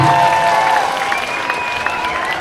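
A crowd at the Raslavický pedál 2024 cycling event applauds briefly, fading as a faint tonal hum and soft crowd murmur continue in the background.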